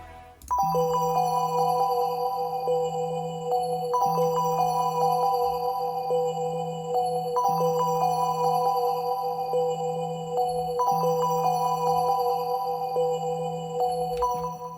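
A bright, bell-like synth preset in FL Studio plays a repeating melodic phrase with shimmering high overtones, sustained and steady, with no voices.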